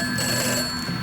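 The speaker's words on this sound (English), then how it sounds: "It's just a phone." A telephone rings steadily and clearly for about a second, its bright electronic tone sustained without pause over a faint low background hum.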